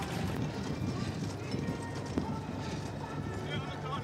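Horses trot with a carriage around the main show ring at the Great Yorkshire Show, their hooves clip-clopping steadily beneath a dense wash of crowd and arena noise.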